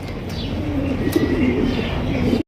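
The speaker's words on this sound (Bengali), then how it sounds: "এটা হচ্ছে স্প্যানিশ জেনেস কবুতর অরিজিনাল" Original Spanish pigeons coo in a close, continuous run of low, throaty calls lasting a couple of seconds, with a few faint chirps above and no voices.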